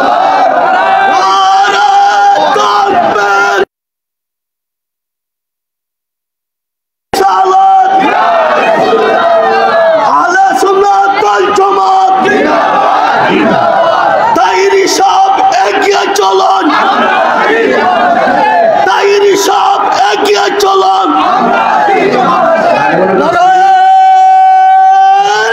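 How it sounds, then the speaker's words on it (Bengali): A large crowd at a religious sermon gathering, loud massed voices shouting together over a public address system, with a sudden silent gap early on and an amplified voice continuing afterward. "আল্লাহু আকবার জোরে কর।"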